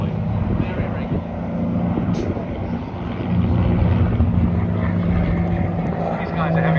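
Aerobatic planes flying in formation at the Barossa air show in 2025 give off a steady, loud engine and propeller drone that swells partway through, with commentary voices talking over it.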